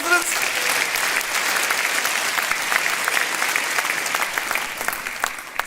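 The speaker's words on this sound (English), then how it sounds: "Round of applause for our residents." Crowd applause for local residents at a Reform UK political rally: steady, dense clapping from a sizeable audience that keeps going evenly throughout.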